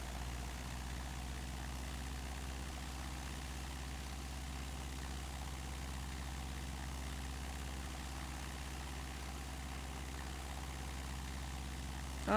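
The engine of a Model 61 Long-EZ aircraft in Microsoft Flight Simulator drones at idle, a steady low hum with no change in pitch heard from the cockpit, running alone.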